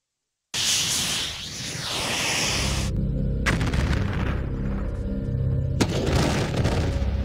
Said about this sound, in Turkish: Önce duvarı delip içeri giriyor, sonra infilak ediyor.